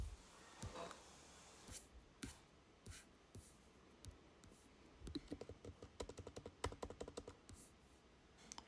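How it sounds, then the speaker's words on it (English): Quiet, close typing on a computer keyboard while filling in an online visa application form, with scattered keystrokes at first that build into a quicker, irregular run of clicks. "And then just type your email address."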